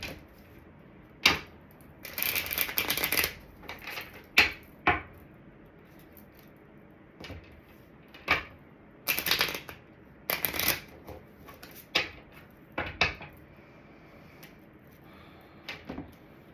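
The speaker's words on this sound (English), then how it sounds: "Let's get a couple more cards here before we get into the tarot." Tarot cards being shuffled and drawn: several short bursts of riffling and snapping card sounds, close and fairly loud, separated by quiet pauses.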